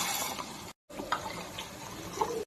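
Water splashes and trickles into a cooking pot of tempered rasam with curry leaves and asafoetida, a close, fairly quiet pour broken by one short gap.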